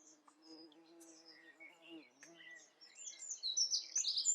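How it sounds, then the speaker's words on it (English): A bee buzzing close by with a droning hum that wavers in pitch, faint at first, while birds chirp more loudly near the end. "Oh, that's a bee."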